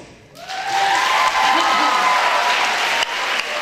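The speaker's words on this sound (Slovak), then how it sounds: "obrovský potlesk" An audience at a primary school talent show bursts into loud, sustained applause and cheering after a band performs, the clapping starting abruptly and holding steady throughout.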